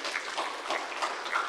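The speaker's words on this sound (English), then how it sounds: "You're going to clap before you speak." A church congregation applauding a volunteer, with soft, fairly sparse clapping from a modest crowd in a room, fairly quiet and steady across a brief moment.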